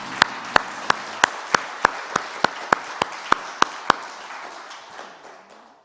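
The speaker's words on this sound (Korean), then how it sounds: "하나님께 영광의 박수를 한번 드릴까요?" A church congregation claps in unison during a worship service, giving about a dozen sharp, evenly spaced beats. The claps stop abruptly, and quieter scattered sound fades out afterward.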